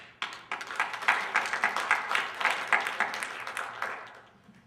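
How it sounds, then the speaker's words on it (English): Audience applause at a student address rises sharply and rolls on in uneven bursts of clapping from a modest crowd, gradually thinning toward the end. "That deserves a round of applause"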